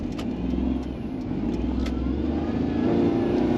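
A Daihatsu Move car accelerates hard in first gear, its engine drone steady and close from inside the cabin, with no talk.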